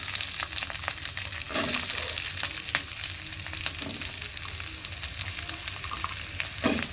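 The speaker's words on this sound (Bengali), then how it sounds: "পেঁয়াজটা দিয়ে নেড়ে নেবেন।" Chopped onion sizzles in hot ghee in a pan as it is stirred, with a continuous crackling fry broken by scattered scrapes and taps of the spoon, close and moderately loud with no talking.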